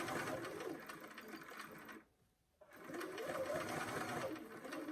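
A sewing machine stitches a collar with a fast, steady whirring hum that pauses briefly, then resumes, close and fairly quiet.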